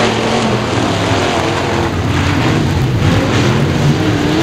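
IMCA Modified race cars roar around the dirt oval at Skyline Raceway, a loud, dense and continuous wall of engine noise from several cars running close together, with no voices over it.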